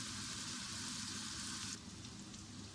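Oil frying steadily in a pan for a homestyle desi chicken dish, a soft continuous sizzle with a slight drop in intensity partway through, no voices.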